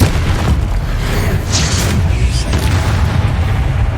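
A Confringo spell explosion in the Hogwarts Legacy video game, a loud, dense booming roar that fills the whole clip with a sustained low rumble and brief crackling bursts.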